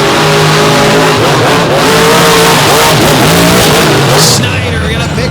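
Racing trucks at a 2023 Overdrive event in Illinois accelerate hard toward the finish line, a loud, continuous engine roar with rising revs and a brief squeal near the end.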